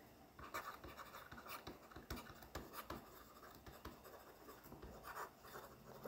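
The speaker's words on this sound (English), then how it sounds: "Let's write it down." A pen writes on paper up close, with quick scratchy strokes and soft taps in an irregular rhythm, faint and steady throughout with no voices.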